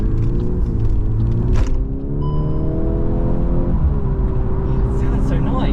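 A Volkswagen Golf R Mk8.5 Black Edition is driven along with a steady engine and exhaust drone heard from inside the car. The pitch rises and falls gently through gear changes.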